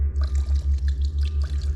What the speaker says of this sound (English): Hardener now. Oh, yeah. Ooh. Pour that in now until we get to the second.